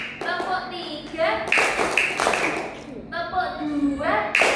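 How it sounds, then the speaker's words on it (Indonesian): Children in a Grade 3 classroom clap in counted rhythmic bursts, quick runs of claps alternating with short pauses, and an adult voice talks in between the bursts. "tepuk 4, tepuk 5"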